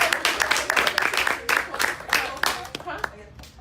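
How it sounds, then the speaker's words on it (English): A group at a breakout session clapping their hands in loose, uneven bursts, with close, crisp claps that mix with chatter and talking voices. "Can we just clap our hands?"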